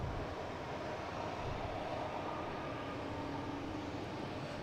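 An American Airlines jet in Allegheny retro livery arrives overhead, a faint, distant, steady engine roar that stays even throughout with no talk.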